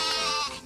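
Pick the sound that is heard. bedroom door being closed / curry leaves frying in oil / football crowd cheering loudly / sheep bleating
sheep bleating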